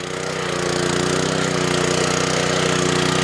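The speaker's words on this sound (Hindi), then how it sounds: "आवाज़ बड़ी प्यारी लग रही है मेरे को सर। ये बिल्कुल साइलेंट इंजन है" A Japanese power tiller's small engine runs steadily and close by, giving a constant, even chugging hum with a fine rhythmic pulse and no talk.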